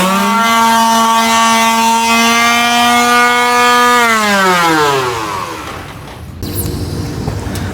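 A tool sands ground tack welds on a 1969 VW Bus floor pan, giving a loud, close tonal whine that holds steady, then falls in pitch and winds down before a rougher grinding scrape takes over.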